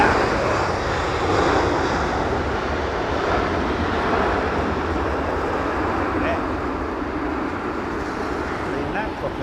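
Qatar Airways Boeing 767-300 jet engines roaring at London Heathrow, a broad steady rumble at a moderate distance with people chatting over it.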